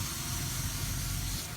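A lawn sprayer gives off a steady, close hiss of fine spray over grass near crabgrass, holding an even level throughout with no pauses.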